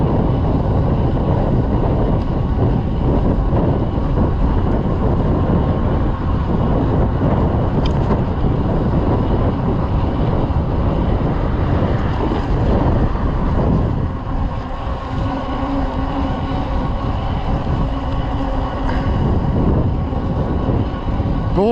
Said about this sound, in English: chilly wind today